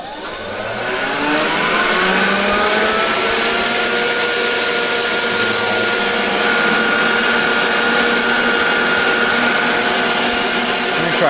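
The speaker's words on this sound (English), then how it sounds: "turn on the exhaust now." Exhaust fan on an electric fluid bed coffee roaster, upgraded to a 5 lb batch, spins up and then roars steadily, a loud, even mechanical whir close by.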